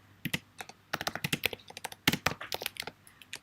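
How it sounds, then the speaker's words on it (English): Fingers type on a computer keyboard nearby in quick, uneven bursts of sharp key clicks with short pauses between, alone without talk. "I'm just typing that in on the comments in case anyone else joins late."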